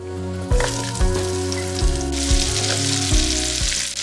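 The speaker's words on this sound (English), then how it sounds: "Let's add in our zucchini and our squash." Zucchini and squash sauté in bacon grease in a pan, a steady close sizzle broken by several louder spatters and stirring bumps.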